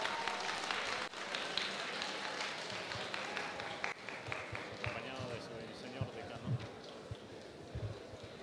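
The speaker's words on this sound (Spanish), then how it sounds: "Los vamos a recibir con cálidos aplausos." Warm applause from the audience at a university award ceremony for winning student music ensembles, steady clapping filling the hall while a voice talks over it.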